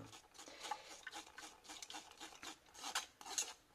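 Raspberry purée is scraped and pressed through a sieve to strain out seeds, producing soft repeated rasping strokes with small metallic clicks, close and quiet.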